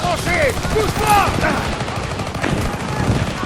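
Gunfire rings out in the World War II shooter Call of Duty WWII, with bursts of automatic shots in a trench battle while voices shout orders and sweeping whistle-like tones cross the mix.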